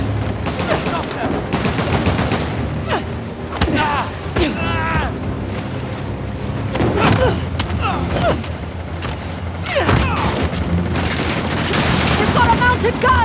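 Heavy mounted-gun fire in Uncharted: The Lost Legacy hammers in rapid, dense bursts throughout, loud and close, with booming impacts layered in and a voice speaking briefly over the gunfire.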